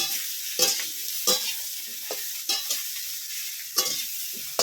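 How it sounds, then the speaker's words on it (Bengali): Eggplant pieces fry in hot oil with a steady close sizzle, broken by repeated sharp scraping stirs at irregular intervals. "বেগুনগুলো এবারে খুব সুন্দর করে তেলের মধ্যে ভেজে নেবো"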